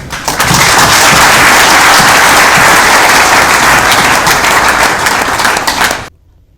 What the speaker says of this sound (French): avec cet exploit de Ngouba, est-ce que vous pouvez acclamer pour cet exploit-là